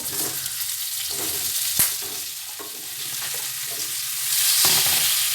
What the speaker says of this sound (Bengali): এবার লাউ দিয়ে আলু দিয়ে একটু কষিয়ে নেব